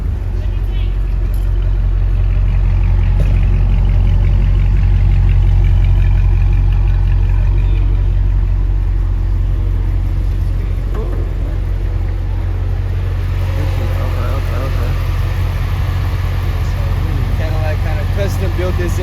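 A loud, steady low engine rumble from a Cadillac CT5 Blackwing sports car with a custom-built Corvette Z06-type engine idles continuously throughout, with someone talking over it.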